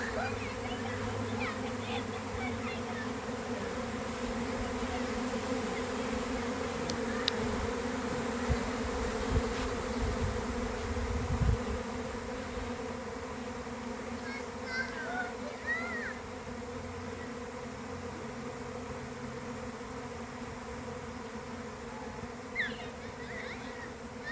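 A swarm of honey bees pours out of the hive, making a dense, steady buzzing drone that holds throughout, with a few faint clicks and rustles nearby.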